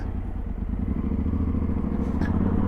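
A motorcycle engine idles steadily right after ignition, a loud, even close-range rumble with a faint clatter and no speech.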